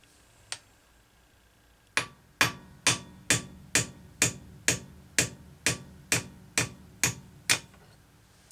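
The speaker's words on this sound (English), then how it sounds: "So we're just going to tap that through into the carb throat." Sharp metal taps driving an old .030 high-speed jet through the carburetor throat of a McCulloch SP-125 chainsaw, one lone tap followed by a dozen evenly spaced close blows.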